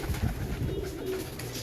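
Royal Teddy pigeons coo in a few soft, low, throaty bursts close by, set against a quiet background hum.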